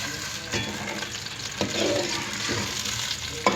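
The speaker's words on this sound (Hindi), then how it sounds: "इसके बाद जी हम लोग इसमें बैगन ऐड करेंगे और बैगन को अच्छे से हम लोग फ्राई कर लेंगे।" Eggplant frying in about two big spoons of oil, a dense, loud, continuous sizzle with repeated stirring scrapes throughout and no voices.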